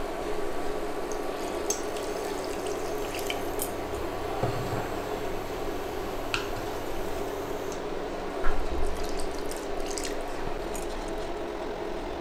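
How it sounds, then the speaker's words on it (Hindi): Water poured into frying masala spiced with garam masala powder for a surmai fish curry gives a steady, close sizzling hiss with wet bubbling that holds for the whole stretch, with no talking. "और डालेंगे पानी।"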